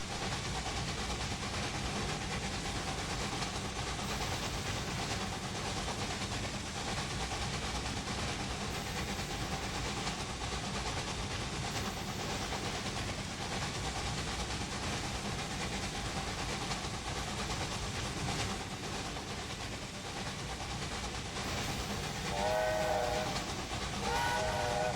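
The John Bull steam train runs in Railway Empire 2 with a steady, continuous rail rumble that fills the whole stretch, and a whistle sounds briefly near the end.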